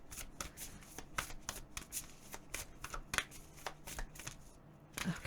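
Tarot cards being shuffled by hand indoors, a run of crisp riffling and flicking bursts with brief pauses, close and fairly loud, with no talk over it.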